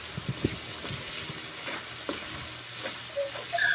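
Chopped garlic sizzles and fries in a pan with vinegar and shrimp paste, a steady close crackle broken by scraping stirs of a spoon or spatula.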